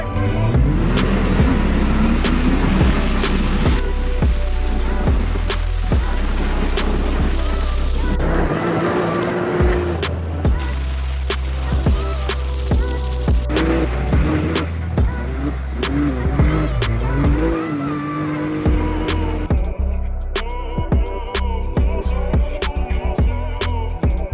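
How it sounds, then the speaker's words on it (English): A stage 3 Yamaha Raptor 700 ATV roars through a drag race in Dubai. The loud engine drones continuously with rising and falling pitch through gear changes, then fades away near the end. "Drag race. 3, 2, 1, go!"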